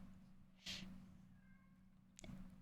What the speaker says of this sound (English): Whenever you hear like those high-pitched meows coming from all the way in the back